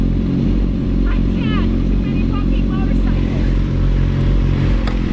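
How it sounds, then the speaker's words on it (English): A deep, steady engine rumble dominates as motorcycles idle and roll by nearby, with brief speech over it. "Too many fucking motorcycles."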